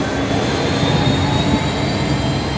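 Several locomotives, among them LDP008 and 8169, rumble past as a loud, steady, broadband roar with droning engine hum and no break.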